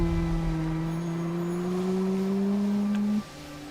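A streamer imitates a car engine with his voice while flying a broom in Hogwarts Legacy, a steady humming drone that slowly rises in pitch for about three seconds before cutting off abruptly.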